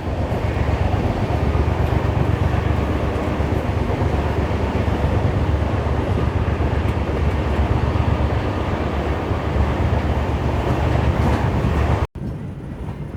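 Steady, loud rumble and rattle of a moving passenger train on the Narkher–Kacheguda Intercity Express, diesel-hauled, heard from inside a coach, continuous throughout before a sudden brief cut near the end.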